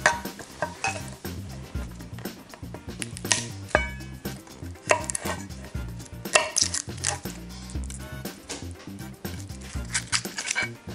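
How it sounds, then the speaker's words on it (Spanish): A kitchen knife presses down on garlic cloves and cuts them on a board, giving a steady run of close, sharp chopping knocks and clicks with no talking. "Con un cuchillo y presionamos para que se rompa la piel y se despegue sobre todo de la carne del ajo"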